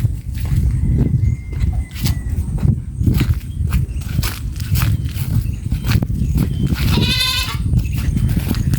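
Goats on a rural Philippine farm bleat intermittently near a pond with weeds and grass, calls recurring amid rustling, footsteps and outdoor background noise, one clearer bleat standing out late.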